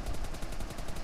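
Rapid automatic gunfire in the mobile battle royale game PUBG Mobile Lite, a quiet, dense burst of evenly spaced shots lasting about a second.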